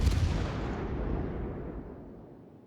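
A warship's main guns fire high-explosive shells in World of Warships, heard as one heavy booming blast at the very start that rolls off into a long, fading rumble, loud and close, with no talk.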